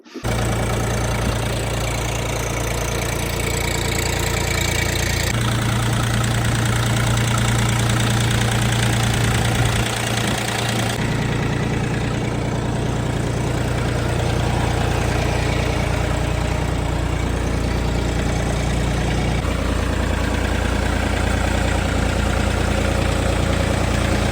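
A Xingtai 244 tractor's diesel engine runs steadily at close range for over twenty seconds, a loud, continuous, knocking idle whose pitch shifts slightly a few times as the revs change.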